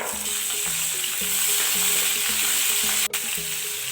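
Vegetables with garlic and beans sauté in a hot pan for a South Indian soup, a loud steady sizzle and crackle heard up close throughout, with a brief stirring knock near the end.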